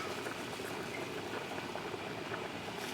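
Liquid pours into a cooking pot on the stove while making smothered cabbage, a steady broadband splashing and bubbling stream that continues evenly for about three seconds, close and moderately loud with no talking.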